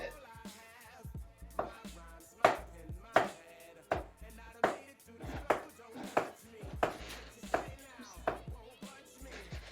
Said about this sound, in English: I'm just doing a little rough chop to cut up the cauliflower into slightly smaller pieces